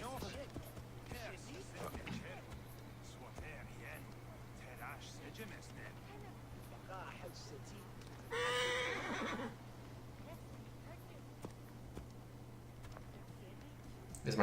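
A horse in the video game Assassin's Creed Origins whinnies in a short burst amid quiet clip-clop hoofbeats and a low steady hum, with occasional soft background sounds.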